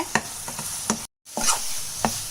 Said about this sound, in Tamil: ஸ்லோவில் வச்சு கொஞ்சம் நல்லா பொறுமையாக இதை நல்லா நீங்கள் கிண்டி விட்டுட்டே இருங்க